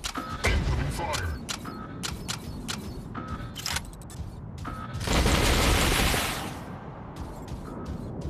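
Weapons fire in the robot battle game Mech Arena: dense bursts of sharp shots and booms crackle close by, swelling into a heavy roaring barrage midway, with a voice speaking over part of it.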